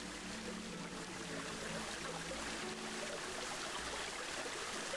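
Waterfall in the Planet Zoo game, a soft continuous rushing wash of water, steady and faint with no talk over it.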